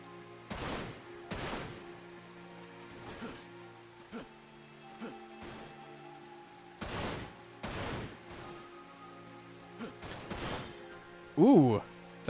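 Gunshots from the video game Dirge of Cerberus: Final Fantasy VII, a series of single sharp reports spaced irregularly over several seconds, at moderate volume with a brief higher-pitched game sound near the end.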